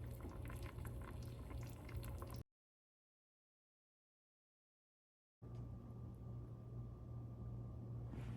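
Rice boils in a pot with a faint, low bubbling rumble, heard in two stretches separated by a few seconds of complete silence.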